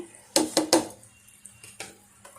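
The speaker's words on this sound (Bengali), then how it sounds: "এই যে এখন আমি এই বাদামটা ঢেলে দিব" Peanuts drop into sticky sugar syrup in a pan, making three sharp clattering hits in quick succession followed by softer scattered knocks and scrapes, close and distinct.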